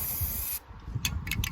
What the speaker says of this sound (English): So I got this new black spray paint that I just found in the house,